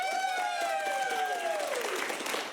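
A Portland improv comedy audience claps and whoops to vote for a film, with dense close applause and a loud sliding 'woo' cheer that fades near the end.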